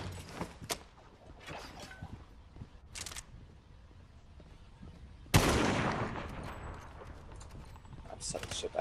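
Sniper gunfire in Fortnite: a single loud, sharp shot cracks out midway, following scattered fainter in-game clicks and thumps, then a lingering rumble.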